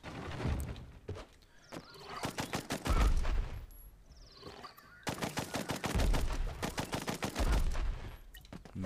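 Rapid gunfire bursts from the side-scrolling action game Blast Brigade, two long volleys of sharp repeated shots with heavy low thumps, separated by a brief lull with softer game effects.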